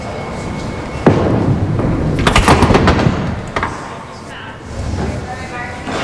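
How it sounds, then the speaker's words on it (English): A bowling ball crashes into the pins during a televised 5-pin bowling quarter-final, giving a few sharp clattering impacts and rattles over a busy alley hum, with a commentator talking throughout. "The ball is exploding in the pocket. Sent 2 pins at that left-hand corner pin on that thin right pocket hit."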